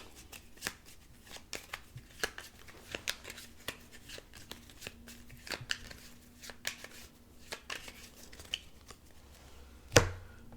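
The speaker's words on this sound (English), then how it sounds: "I have to draw an aging card and shuffle again" Riffle shuffles of a deck of playing cards during a board card game, repeated crisp fluttering bursts with a sharp slap near the end, close and fairly quiet with no talking.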